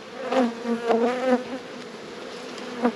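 Honeybees buzz around an opened hive in an Australian apiary, a dense, steady drone of many wings with a few louder passes of single bees flying near.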